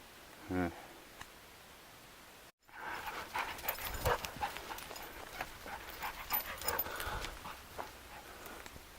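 Dog on a forest path under a leaning tree, breathing and panting near the microphone, with a brief whimper early on and rustling footsteps on the trail.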